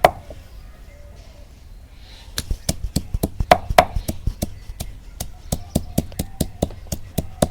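Onion is pounded on a traditional shil-pata grinding stone with a long run of sharp, regular thuds that start slowly and then quicken, close and loud, after a brief quiet stretch.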